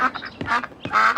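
A duck gives a short series of nasal quacks, three or four bursts in quick succession, close and clear.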